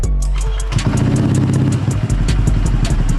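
Honda Click 125 scooter fitted with a TP Moto power pipe exhaust, started and then idling close by with a loud, deep, steady rumble and slight rhythmic pulse, without talking.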